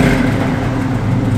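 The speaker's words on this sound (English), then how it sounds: "Give a little rev." A 1970 Chevrolet Chevelle SS V8 revs with a steady, loud low rumble that holds without pause, close by and with no talking over it.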